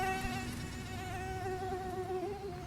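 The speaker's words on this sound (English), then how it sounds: "This cycle is repeated when the mosquito continues to search for other places to lay her eggs." A flying mosquito makes a thin, steady high-pitched whine that wavers slightly in pitch. It is quiet and heard alone, with no voices.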